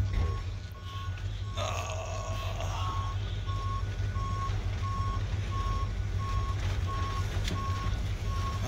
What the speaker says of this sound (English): I've got to put that beeper on a switch.